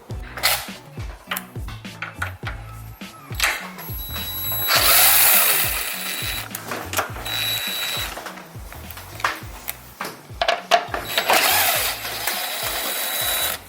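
Power tool spinning out 10 mm headlight housing bolts on a Jeep Wrangler, repeated short whirring bursts of a driver with pauses between, plus a few longer runs, close and fairly loud.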